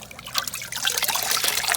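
Water squeezed from an aquarium sponge filter pours and trickles in a bright, splashy stream, running steadily for a couple of seconds up close.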